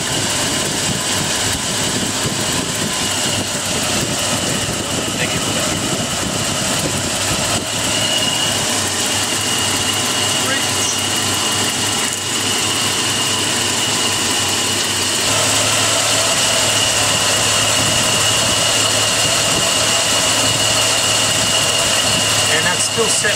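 A Nissan Patrol with a TB42 engine idles steadily throughout during an ignition timing check after a distributor change, a loud, continuous mechanical drone that grows slightly louder partway through, with a voice talking over it.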